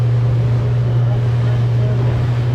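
A Suzuki DF100B four-stroke outboard motor pushes a boat at about 3,300 RPM, giving a steady, loud drone with wind and water noise mixed in throughout.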